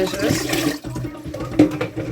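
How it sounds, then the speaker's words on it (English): Tap water running at a sink while baby bottles are washed, a steady close splashing rush with bursts of louder spray and clatter. "Pardon the noise. We gotta wash the baby bottles."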